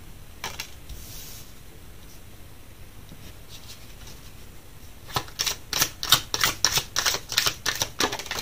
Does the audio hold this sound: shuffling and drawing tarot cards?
yes